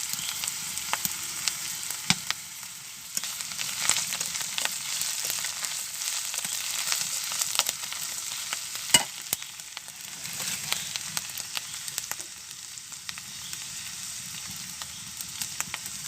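Ground ginger, onion and garlic paste frying in a pot for goat meat curry, with a continuous close sizzle and a few sharp crackles and stirring clicks, steady throughout.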